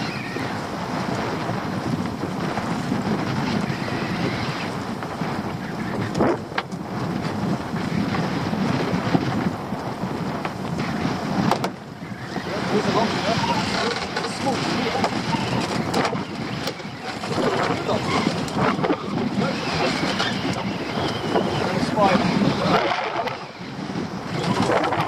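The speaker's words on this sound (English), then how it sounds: "this is the wind" Blustery wind on a sunny day buffeting a fishing boat, heard as a continuous loud rushing roar with gusty surges and microphone buffeting throughout, and no speech.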